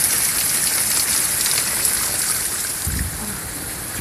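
Golf-ball-sized hail pelts down outside a car in a steady, dense roar of impacts, loud and continuous throughout, with a brief low thump near the end and no talk.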